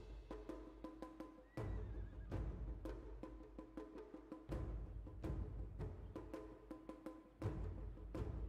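Horses in the strategy game Humankind neigh and whinny over a rhythmic, percussive battle-music bed, with repeated sharp hits and a steady moderate level throughout.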